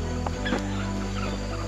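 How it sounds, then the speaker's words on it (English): Chickens cluck faintly from a tree in the Sumatran countryside, a few soft calls half-buried under a steady, droning background hum. "All the chickens in the tree."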